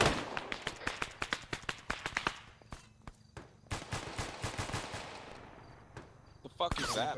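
Rapid gunfire in an Arma military battle at a bunker system: dense bursts of sharp cracking shots, some distant and some closer, thinning out and then resuming, with muffled voices and a final loud crackle.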